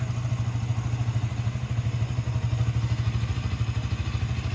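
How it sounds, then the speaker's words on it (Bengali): A motorcycle engine idling nearby, a steady low rhythmic putter that runs evenly throughout. "আমার বাইক ওখানে স্টার্ট দিয়ে রেখে এসেছি"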